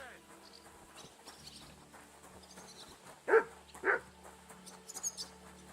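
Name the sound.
dog Mutt barking, from the video game Kingdom Come: Deliverance II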